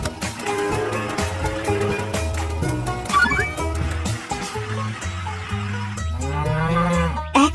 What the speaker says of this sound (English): Who is it that's making this moo sound?